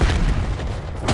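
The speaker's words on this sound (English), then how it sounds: "Enemy grenade." A grenade explodes in the Call of Duty Black Ops game on the Nuketown map, a loud, close boom with a rumbling low-end tail that fades over about a second before a second burst of noise rises at the end.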